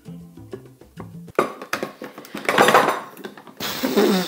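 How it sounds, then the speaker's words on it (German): A small food chopper purees cooked sweet potatoes, starting with a few short tonal beeps, then rattling, clattering bursts that settle into a steady, loud mechanical whir near the end, with no talking. "Zuerst werden die Süßkartoffeln püriert, zerkleinert"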